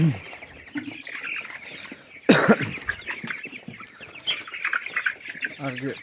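Chickens cluck and chirp close by in a busy coop, with a sudden louder squawk partway through and a voice speaking faintly among them.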